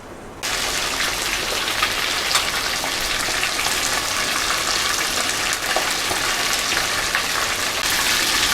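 Chicken legs deep frying in hot oil give a loud, steady, close crackling sizzle that starts abruptly and holds evenly throughout.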